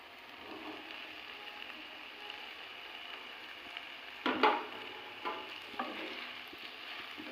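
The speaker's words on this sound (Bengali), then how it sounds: "এবার মশলার সঙ্গে কপিগুলো খুব সুন্দরভাবে মিশিয়ে নেব" Fried cauliflower being stirred into a ginger-paste spice masala in a pan for a vegetarian cauliflower roast, a steady soft sizzle with a louder scrape near the middle and a couple of lighter stirring knocks after.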